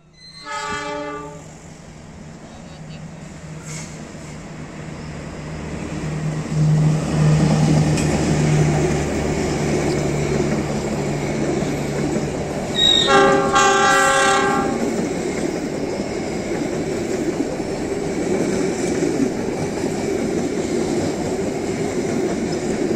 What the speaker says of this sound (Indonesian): sudah melintas kereta api Ciremai dari barat menuju timur dengan tujuan akhir stasiun Bandung